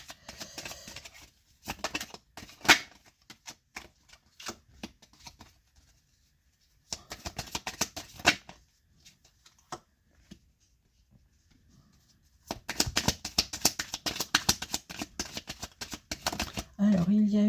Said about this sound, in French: Je tire les cartes et j'explique.